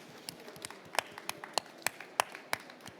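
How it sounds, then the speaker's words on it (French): A small crowd in an indoor corridor claps scattered, uneven hands for a marmot mascot wandering past, the sharp individual claps fairly faint and spread over a few seconds without building to full applause. "Vous pouvez l'applaudir."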